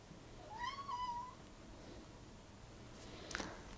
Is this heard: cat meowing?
yes